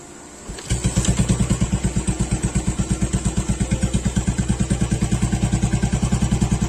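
A Royal Enfield Standard 350 BS6 motorcycle starts up and settles into a loud, close idle with a steady rhythmic thump.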